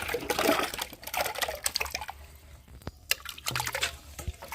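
Cut mango pieces being washed in a bowl of clean water, with irregular splashing and sloshing bursts close by, a brief pause midway, then more handling of the wet fruit.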